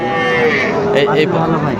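Young cattle at a rural livestock market moo in one loud, close, drawn-out call, with market bustle behind.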